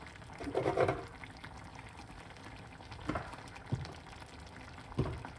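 Lentils simmer in a pot, a faint, steady bubbling with occasional soft pops and gurgles close by, no voices.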